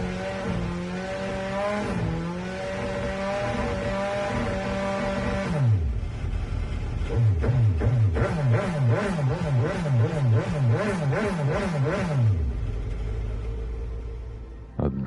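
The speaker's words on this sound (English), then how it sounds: "Now that's what I call a sweet sounding engine." A car engine in the video game Gran Turismo 7 revs hard in repeated rising and falling sweeps after a steady idle, loud and close, then settles back to a low rumble, with no talking over it.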